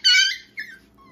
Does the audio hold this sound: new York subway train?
no